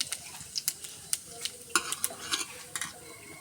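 Cumin seeds sizzle in hot oil while a utensil scrapes and taps the pan in quick irregular strokes, a light crackling fry underneath, close up with no talking.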